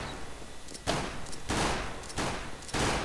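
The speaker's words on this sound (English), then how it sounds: "We're all gonna use Glock 18s and repeatedly switch between automatic and burst fire" Glock 18 pistol fire in CS:GO, switching between automatic and burst modes: several separate loud, sharp volleys crack out at uneven gaps, each a short dense cluster of shots over quieter game background.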